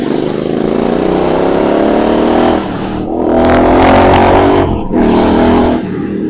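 A GT 650 motorcycle engine roars loudly and steadily up close, swelling into a stronger rev around the middle with a few brief throttle blips before settling back to a heavy idle-like drone.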